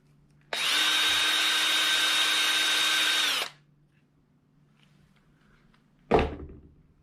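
A power screwdriver backs out Phillips screws from the kill switch on a 1996 Kawasaki KLR 650 handlebar, with one steady three-second whir followed by a short clatter of a part set down.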